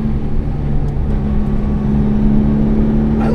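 Modified Porsche 996 Carrera held in third gear on a road, its engine droning steadily from inside the cabin with a constant hum and no talking.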